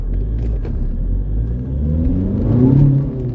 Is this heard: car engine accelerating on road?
yes